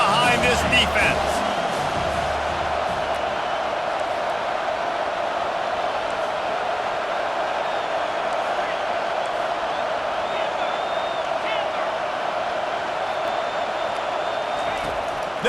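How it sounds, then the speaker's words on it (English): Steady stadium crowd roar in the EA Sports College Football 25 video game, a loud continuous wash of cheering filling the whole stretch as the home fans rally behind the defense on third down. "Big third down as the crowd gets behind this defense."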